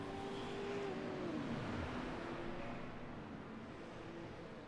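A race car engine at Dover Motor Speedway during a Pit Stall Racing Series event, its pitch sliding downward as the driver works the clutch, then settling into a steady, loud drone with other cars droning in the distance.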